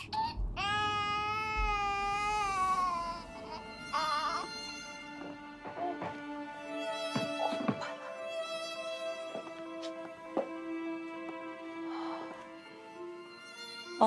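An infant wails in a drawn-out, rising cry for the first few seconds, close and loud, before fading into soft sobs under sustained dramatic music with scattered thuds.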